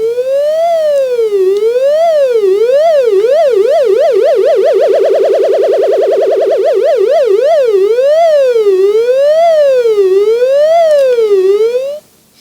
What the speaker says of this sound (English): Okay, now the pitch is going up and down.